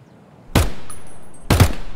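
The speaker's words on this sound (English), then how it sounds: "Yeah, it's me shooting, yes." Two loud, sharp gunshots about a second apart crack out in Escape From Tarkov, near and alone, each followed by a short echoing tail.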